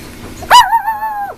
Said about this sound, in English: Oh, that's a good howl.